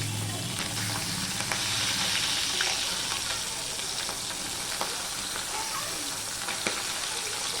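Bata fish frying in hot oil after being flipped, a dense close sizzle and crackle with scattered sharp pops, steady and fairly loud for several seconds.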